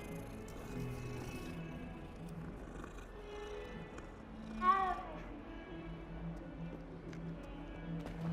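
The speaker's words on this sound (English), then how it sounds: "It's fucking cat, can I pet it?" A cat in the video game Hogwarts Legacy gives a single short meow near the middle, brief and fairly faint over a steady bed of game music and ambience.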